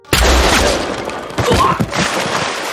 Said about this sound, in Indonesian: ternyata itu adalah tembakan dari adik tengah Yuri